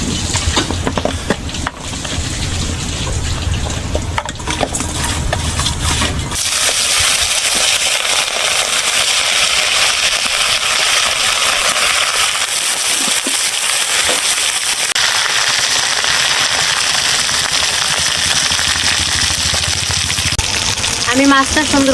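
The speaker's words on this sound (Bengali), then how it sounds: "আমি মাছটা সুন্দর করে ভেজে নিয়েছি।" Tilapia fish sizzling and crackling in hot oil in a pan, a dense, steady spatter that runs loud and continuous throughout, with busier clattering and handling sounds near the start.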